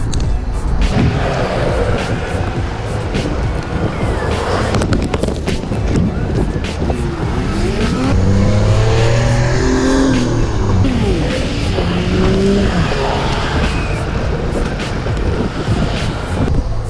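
An $800 electric scooter rolling on cruise control over flat ground with the rider at its weight limit: a loud, steady rush of wind and road noise with a faint motor whine and indistinct voice underneath.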